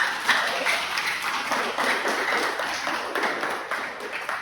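Applause from a university classroom audience after a drama lesson presentation, a dense steady patter of clapping that stays at an even, moderately loud level throughout.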